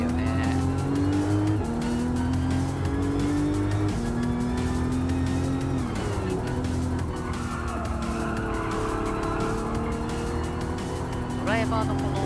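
Race cars in the video game Gran Turismo 7 roar continuously through a race, engines droning with bursts of tire squeal and skidding, while a commentator talks over the whole stretch.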